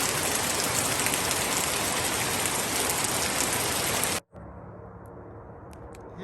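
Steady, dense rain hisses loudly for several seconds near a mountain trail in Pennsylvania, then cuts off abruptly, leaving faint quiet background.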